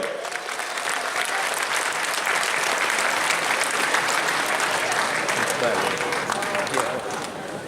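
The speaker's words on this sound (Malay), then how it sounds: "berikan tepukan paling murah kepada Kowe" Audience applause at a gathering breaks out and fills the hall continuously, a dense, loud wash of clapping with cheering voices mixed in throughout.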